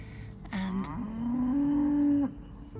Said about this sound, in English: are the cows mooing